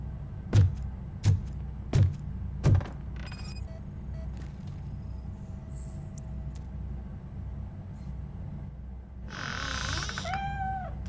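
A cat in the video game Robocop: Rogue City gives a drawn-out meow near the end, after four sharp thumps and faint game ambience with a few high tones.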